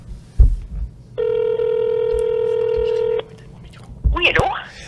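A single telephone dialing tone sounds steadily for about two seconds as a call is placed, between low thumps and handling noise, with a voice speaking briefly near the end.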